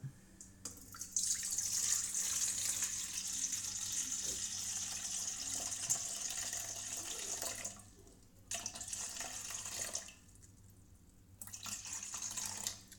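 Tap water runs steadily into a container sitting on a kitchen scale while weighing water for hand-made dough, a hissing, splashing flow that briefly stops and restarts twice near the end, fairly faint and without talk.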